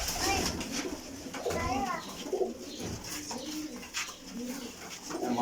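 A prized pedigree flying pigeon coos softly among other birds, partly mixed with people talking nearby.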